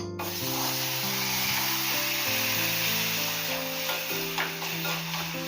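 Water poured into a hot proso millet and jaggery mixture sizzles and hisses steadily for several seconds over a low tonal background of music.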